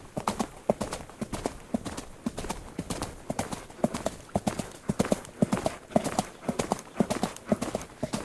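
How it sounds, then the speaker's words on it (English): Galloping horse effect played over a stadium sound system at a Euro 2024 football match between Romania and the Netherlands: steady, fast clip-clop hoofbeats throughout, moderately loud over crowd ambience. "Can you hear the gallop?"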